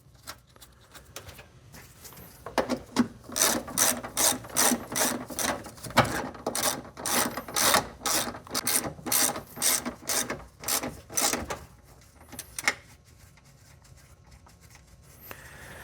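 Hand ratchet tightening 10mm nuts that hold a brake booster to the firewall of a Chevy Express / GMC Savana van, giving a close run of rapid rhythmic clicking strokes that stops and is followed by a few isolated clicks.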